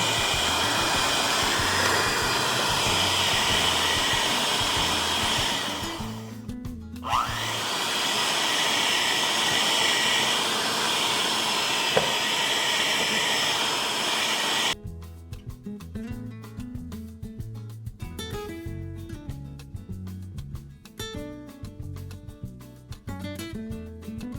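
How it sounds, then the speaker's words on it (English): Electric hand mixer creaming butter with sweetener for an eggless, sugar-free rum cake, a loud steady whirring drone that briefly stops around the seven-second mark, then after about fifteen seconds turns rougher and more rhythmic, rattling against the bowl. "Hand mixer. This thing will fly all over the place."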